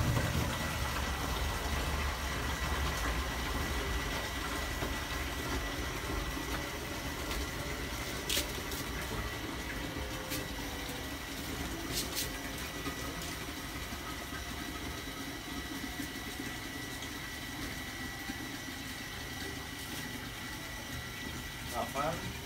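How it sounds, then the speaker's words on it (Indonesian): A shallow-well water pump runs steadily with a low mechanical hum while its 1-inch suction pipe fills an empty gallon jug, with water rushing throughout and faint talk in the background. "Nanti akan saya tekan start pada saat pompa saya nyalakan"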